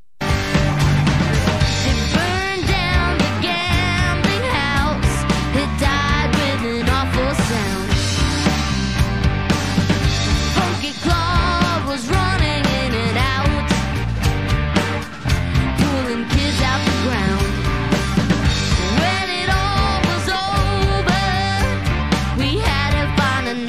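Full band performing live, with piano in the mix alongside guitar, bass and drums, a dense, loud and steady wall of sound throughout, no talking.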